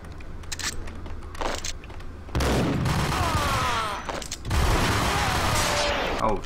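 Rapid bursts of gunfire in the shooter Max Payne, loud and close, with a quieter opening stretch before a sustained barrage from about the two-second mark and a brief lull midway, overlapping shots ringing out.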